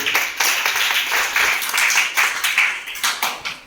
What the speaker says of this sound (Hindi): ताली बजा इसके लिए